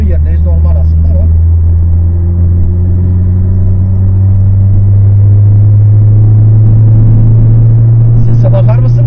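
Mitsubishi Eclipse engine running loud and close, a deep steady rumble with a droning low tone that rises slightly, heard from inside or beside the car, with a voice briefly at the start and end.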